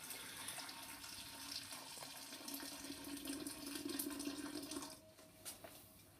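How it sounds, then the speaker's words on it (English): Hot water poured from a boiled kettle into a jar makes a steady, close liquid rush that swells for about four seconds, then drops away to quieter trickles and splashes. No one speaks. "So now we are going to pour in the hot water from the kettle."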